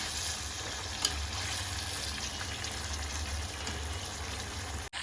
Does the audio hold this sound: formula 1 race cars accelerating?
no